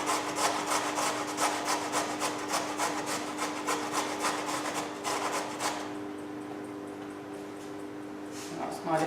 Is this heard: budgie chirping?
no